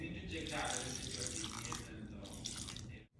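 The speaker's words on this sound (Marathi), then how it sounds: "आता यात थोडंसं पाणी घालूया पाणी घालूया" Water pours into a jar holding mint for chutney, a continuous gushing splash lasting about three seconds before it abruptly stops.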